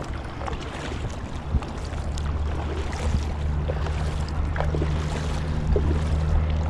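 Paddle strokes from a Bote Zeppelin Aero inflatable kayak with a 249 cm paddle, soft splashes rising now and then over a steady wash of water and wind noise, with no voices.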